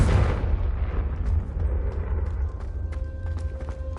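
A Confringo fire spell explodes in the Hogwarts Legacy video game: a loud, booming burst right at the start that rumbles and fades over a few seconds, followed by faint tinkling game effects.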